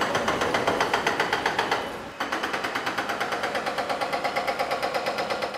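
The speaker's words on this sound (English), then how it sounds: "Anchors are being drilled into the walls to stabilize them during excavation." A rock drill bores anchors into the shored walls of a deep subway station excavation pit, pounding in a fast, loud, even rapid-fire rhythm that pauses briefly then resumes.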